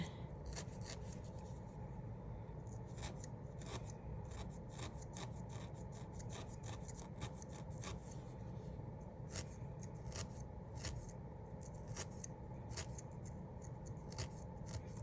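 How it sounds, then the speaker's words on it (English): A spiral felting needle jabs repeatedly into wool while attaching pieces of a needle-felted penguin keychain, giving soft, steady raspy pokes close up over a constant low background hiss, with no talking. "I'm using a spiral needle right now, which I find is really good for attaching things"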